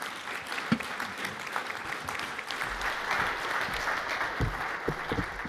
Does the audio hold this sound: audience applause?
yes